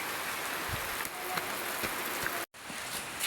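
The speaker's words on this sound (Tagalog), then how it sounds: "Umuulan na!" Steady rain falls outdoors as a dense, continuous hiss of drops striking surfaces, close and even throughout with no voices over it.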